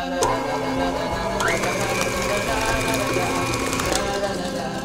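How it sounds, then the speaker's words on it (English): An electric mixer beating cookie dough for rainbow chocolate chip cookies at medium speed, a steady close mechanical whir with a shifting whine that runs throughout under light talk. "Mix it on medium speed until everything is all combined."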